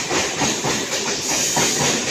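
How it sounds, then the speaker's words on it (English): A Southern Railways local train in Chennai rolls by up close, a loud continuous roar of wheels and rails with faint rhythmic pulses and no talking. "That's Southern Railways train."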